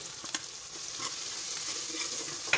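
A ginger, garlic and green chili masala for fish curry sizzles and fries steadily in a pan, with a constant close crackle, occasional stirring scrapes and no voices.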